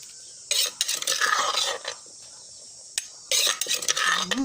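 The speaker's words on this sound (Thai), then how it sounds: "เสียง ครกน่ากินมากค่ะ" Two bursts of pounding and scraping in a mortar while making a Thai bamboo shoot curry paste, close and fairly loud, separated by a quieter stretch of light clinks.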